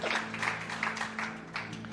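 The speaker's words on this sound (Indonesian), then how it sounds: "Yuk tepuk tangan" Audience applause at a church sermon, soft and somewhat distant, a steady patter of clapping hands lasting a couple of seconds.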